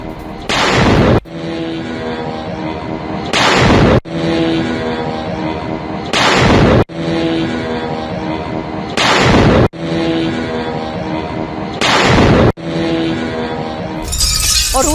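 Explosions from an attack in Saratov, heard as a series of sharp, loud blasts repeating at regular intervals, each bursting over a steady tonal background.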